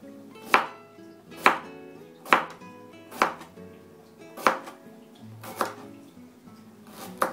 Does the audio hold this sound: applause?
no